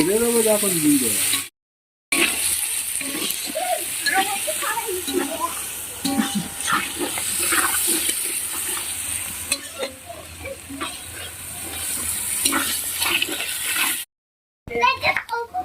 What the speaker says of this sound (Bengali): এরপরে দিয়ে দেওয়া হলো রসুন বাটা রসুন বাটাটাকে দিয়ে ভালো করে নেড়ে চেড়ে নেওয়া হবে